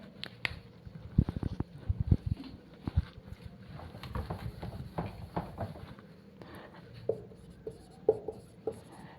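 Chalk or a marker taps and scratches on a board in irregular bursts of short strokes, close and moderately loud, with brief pauses between words in a chemistry lesson.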